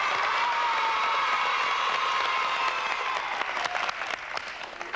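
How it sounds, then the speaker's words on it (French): Sustained, dense audience applause from a French television studio crowd, steady and loud across the whole stretch before thinning slightly toward the end. "Je crois qu'on peut encore l'applaudir."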